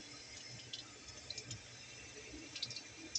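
Water dripping and trickling from a leak under a sink cabinet, faint scattered drips and splashes over a quiet background, no voices.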